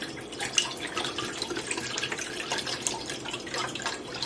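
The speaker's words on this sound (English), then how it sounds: "So I'm just going to add my first carton in here to the pot." Stock is poured from a carton into a cooking pot over medium-high heat, a continuous liquid gurgle and splash heard up close with a steady level and no talking.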